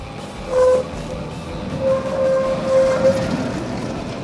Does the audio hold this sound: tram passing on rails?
yes